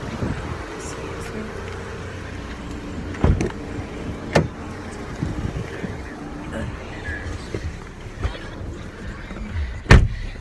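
A car door thumps shut as someone climbs into a car, with a few more sharp knocks and clunks of settling inside; a person talks steadily throughout, with the bangs standing out briefly over the speech.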